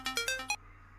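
Phone ringtone playing a short electronic melody of four or five bright tonal bursts, fairly loud and close, then cutting off into quiet.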